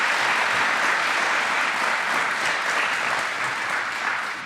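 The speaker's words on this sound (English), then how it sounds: "let's give a round of applause to our state rep candidates" Audience applause for state representative candidates fills the room, a dense, steady clapping that stays loud throughout and tapers slightly at the end, with no voices over it.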